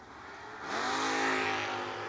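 A drag race car staged at the starting line in a footbrake competition, its engine rising from idle to a loud, steady high rev and holding there.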